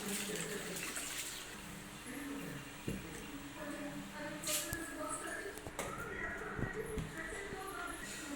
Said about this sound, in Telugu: మనం పప్పు కడిగేసుకున్నాం కదా